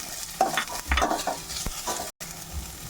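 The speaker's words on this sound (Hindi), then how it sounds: "शिमला मिर्च को भी हम सौटे कर लेंगे।" Chopped capsicum and onions sauté in hot oil in a pan, a sizzle broken by several stirring scrapes and clinks of a utensil, close and moderately loud, with a brief silent cut near the end.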